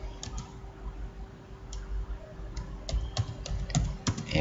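A computer keyboard clacks through a short burst of typing while entering a web search, the keystrokes faint at first and then sharper and quicker near the end over a steady low hum, with no talking.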